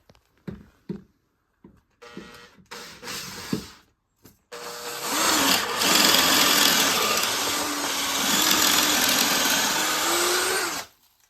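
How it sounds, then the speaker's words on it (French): Drill boring a hole into a solid wall with a large bit while fitting floating shelves. A few short taps and bursts come first, then a loud, steady grinding whine runs for about five seconds before cutting off. "Je prends ma visseuse. Je mets la grosse mèche."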